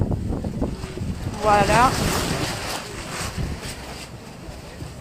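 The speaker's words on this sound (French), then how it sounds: "il y a du vent" Wind gusts outside a courthouse during the Julian Assange trial hearing, buffeting the microphone with a loud, rumbling roar that swells and fades, while someone speaks briefly over it.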